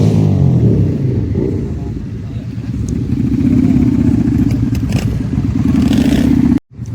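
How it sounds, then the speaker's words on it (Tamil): Motorcycles rev in Jaffna, with a loud, steady engine drone and rattling that swells and holds for several seconds before cutting off abruptly near the end. "ஒவ்வொரு பைக்குண்ட சவுண்டுகளையும் பாருங்கள், ஒவ்வொரு பைக்கையும் பாருங்கள்."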